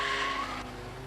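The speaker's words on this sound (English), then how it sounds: "use the foot brake to brake the front wheels away and slide the car around" A left-hand-drive Ford Escort slides around in a reverse J-turn, tyres squealing in a loud, sustained screech over engine noise that eases slightly toward the end.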